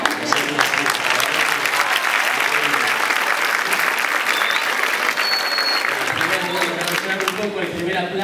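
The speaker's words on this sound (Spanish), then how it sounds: "El primer aplauso fue provocado por nosotros a través de lo que estaba diciendo Paola" A school audience applauds loudly and steadily, dense continuous clapping with crowd voices underneath throughout.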